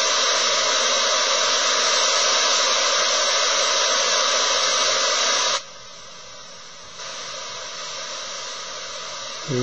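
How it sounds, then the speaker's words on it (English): Loud, steady broadband static from an RTL-2832U software-defined radio receiver with squelch off hisses continuously, then drops slightly in level and tone partway through while still rushing on without any voices. "I could turn the squelch off. You can hear noise."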